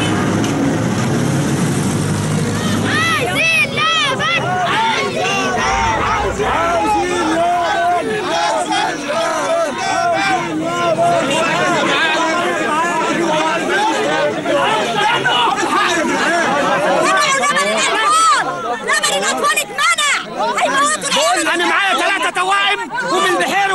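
A protesting crowd in Cairo loudly chanting slogans about baby milk, many overlapping voices rising in rhythmic shouts with the hubbub of people and some engine noise beneath, the chanting growing denser toward the end.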